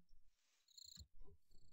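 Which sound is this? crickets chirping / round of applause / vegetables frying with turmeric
crickets chirping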